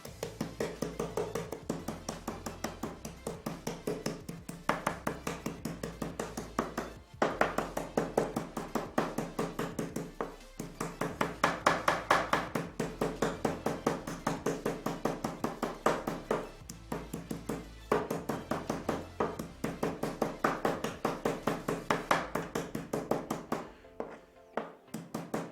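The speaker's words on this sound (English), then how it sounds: "so we place our prawn on the chokka, take the hammer" Repeated sharp tapping and thunking as a hammer drives cracker shrimp into chokka squid bait, with irregular bursts of knocks continuing for a long stretch and no talking.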